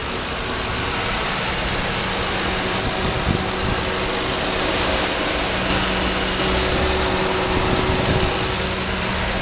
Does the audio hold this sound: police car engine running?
yes